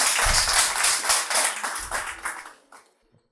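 A burst of hand clapping from an audience, steady at first, then thinning out and stopping, with a few last scattered claps.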